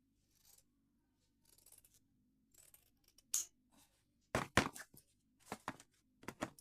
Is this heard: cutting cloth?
yes